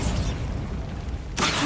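Spell explosions from Confringo and Bombarda in the video game Hogwarts Legacy, a loud rumbling blast that decays over about a second, then a second sharp burst hits near the end.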